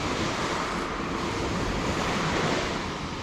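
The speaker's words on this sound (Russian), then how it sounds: "Красиво волна идет, смотрите." Sea waves break and wash onto Massandra beach in Yalta, Crimea, a loud, continuous roar of surf with wind buffeting the microphone throughout.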